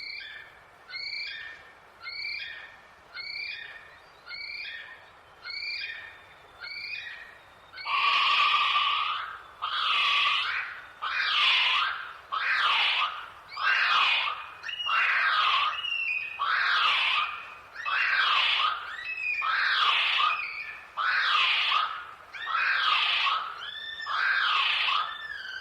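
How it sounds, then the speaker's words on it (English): Kiwi calling on Rakiura, Stewart Island, New Zealand: a male repeats a series of shrill, high whistles, then a female answers with a longer run of loud, harsh, rhythmic screeches, each call evenly spaced and close. "here's the high-pitched male first calling to the female, who responds with her screech"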